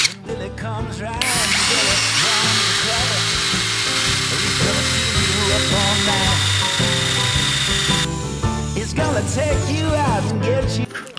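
A GRAND 16V brushless cordless drill runs at its maximum setting with a loud, sustained high whine and motor drone for about seven seconds, starting and stopping abruptly, with a voice talking before and after.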